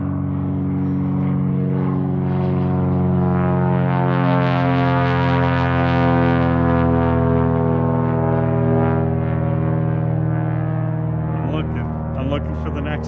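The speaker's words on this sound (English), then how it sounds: "This is the third airplane in a row." A propeller airplane passes overhead in Alaska with a loud, droning harmonic hum that swells toward the middle and slowly fades over about thirteen seconds.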